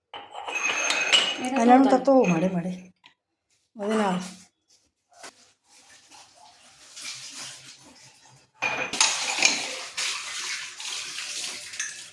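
Glassware such as glasses, a jug and a thermos is washed in a home kitchen under running water, a steady splashing rush in the last few seconds after a stretch of talking and quieter handling.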